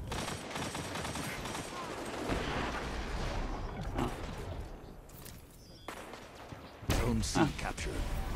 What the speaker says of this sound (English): I'm going to try SMG here because I just wondered how much it could be.